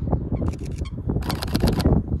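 A Sony A7R IV mirrorless camera fires a quick burst of several shutter clicks, close up and somewhat clunky, in two clusters with low room noise around them.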